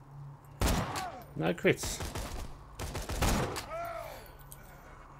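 Gunfire in the video game Borderlands 2, several sharp shots in quick bursts with close, punchy reports, mixed with a player talking over the action.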